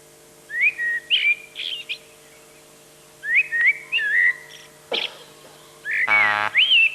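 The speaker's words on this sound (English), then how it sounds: "It's a blackbird." A blackbird sings in an archive recording: clear fluting whistled phrases in three bursts separated by pauses, one ending in a rapid rattling chatter, close and bright over a faint steady hum.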